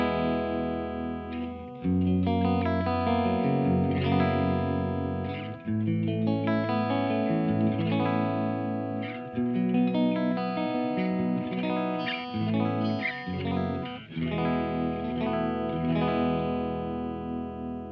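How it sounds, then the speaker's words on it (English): Electric guitar played through the clean channel of an EVH 5150III Stealth 100-watt amplifier with no effects, a continuous flowing passage of ringing chords and single notes, close and full for eighteen seconds without talk. "let's get started with the clean channel right now and hear how it sounds with no effects"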